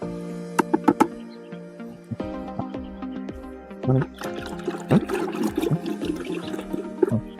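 Liquid fertilizer mix is stirred with a wooden stick in a container, giving irregular sloshing and gurgling swirls of water at moderate, fairly close level with no talk.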